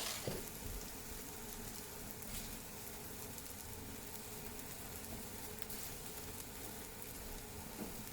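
Rice grains coated in olive oil sizzle steadily in a paella pan over medium-low heat, a faint, even crackle with no talking.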